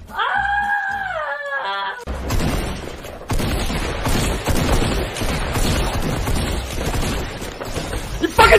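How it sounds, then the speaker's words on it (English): In Fortnite, a blue shotgun fires in sharp, loud bursts amid game gunfire, while a player shrieks and yells angrily over it. "26 shotgun blast! With the stupid blue shotgun!"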